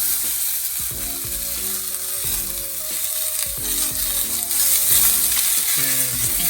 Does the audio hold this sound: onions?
yes